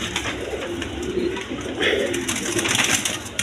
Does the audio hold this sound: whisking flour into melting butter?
no